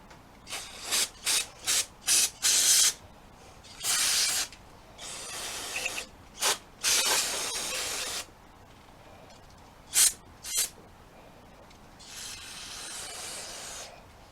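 Compressed air blasts dirt off a small tiller engine in short bursts, several quick puffs followed by longer hissing sprays, close and loud with pauses between.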